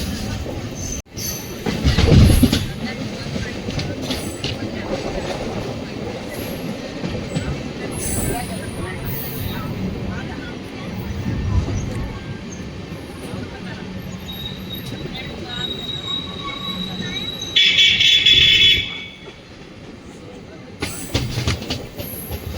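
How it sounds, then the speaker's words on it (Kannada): A Siddaganga Superfast Express with LHB coaches departs Davangere station, its wheels rumbling and clattering steadily, with bursts of wheel squeal and louder passing noise; a voice talks in the background. "3 ನಿಮಿಷ ಬಿಫೋರು ಮತ್ತು 2 ನಿಮಿಷ ಹಾಲ್ಟಿಂದ ನಮ್ಮ ಟ್ರೈನು ದಾವಣಗೆರೆಯಿಂದ ಡಿಪಾರ್ಟ್ ಆಗ್ತಿದೆ."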